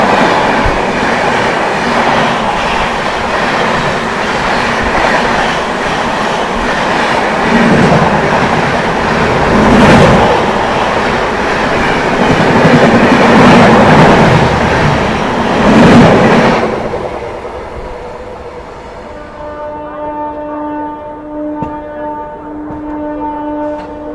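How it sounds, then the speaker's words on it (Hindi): A goods train passes at high speed on the freight corridor, loud rumbling and rhythmic wheel clatter swelling and fading in waves before the noise drops away to a quieter hum. "गुड्स ट्रेन देखो क्या ही रफ्तार में आ रही है"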